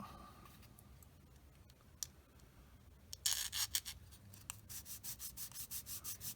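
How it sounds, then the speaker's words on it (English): A sanding stick rubs against a small plastic part of a 1/35 M4A3 76W VVSS tank model in quick back-and-forth strokes, faint scratches at first, then a steady rhythmic rasping. "I'm going to use sanding stick"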